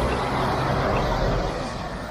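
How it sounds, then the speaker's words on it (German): Dense, steady roar of heavy motorway traffic with cars and trucks passing near a walker's route, a broadband rumbling wash with no distinct pauses and no voices. "Guck mal, hier vorne ist Autobahn mit ganz vielen Autos und LKWs und noch mehr Fahrzeugen."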